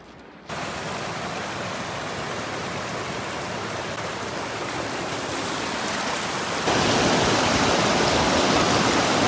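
A waterfall near Mt Whitney roars steadily and loudly as broadband rushing water, growing louder partway through.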